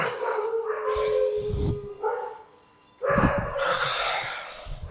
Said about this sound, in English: Our area just has too many dogs,